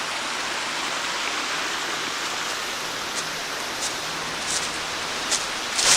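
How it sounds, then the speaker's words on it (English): Treated mine drainage water flowing in a creek along a trail in Tioga County, Pennsylvania, a steady, close, broadband rushing wash with a few small splashes and no voices. "So that is treated mine water."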